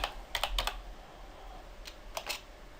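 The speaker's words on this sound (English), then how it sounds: "So where do you find groups like that? Well, you type up here," Typing on a computer keyboard in two short bursts of quick clicking keystrokes, separated by a pause, close and fairly quiet against a low hum.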